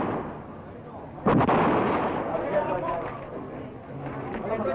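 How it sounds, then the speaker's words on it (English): A gun explodes in one sharp, loud bang that cuts in over ongoing talk, with people continuing to speak as the noise settles. "My gun exploded."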